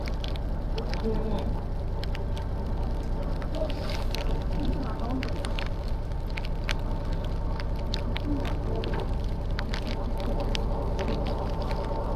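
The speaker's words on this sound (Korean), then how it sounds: "자, 비가 많이 내리고 있습니다." Heavy rain on a fishing boat out for webfoot octopus, a dense steady patter and crackle of drops across the whole stretch, with faint voices underneath.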